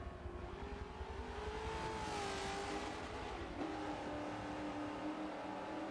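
A Hot Wheels Bone Shaker car engine in the racing game Forza Motorsport 7 drones steadily, its pitch climbing and then sinking as the car accelerates and eases off, alone and fairly quiet.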